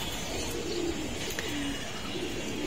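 Pigeons kept by a hobby breeder coo in soft, repeated low phrases, close by, over steady background noise during a hot spell.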